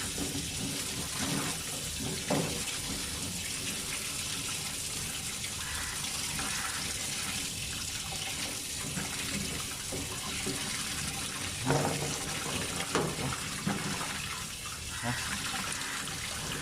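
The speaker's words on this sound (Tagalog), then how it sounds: "Hugasan po natin guys." Freshly picked ripe dates are rinsed under running water, a continuous steady splashing stream with occasional louder bursts as the fruit is handled, and no one speaks over it.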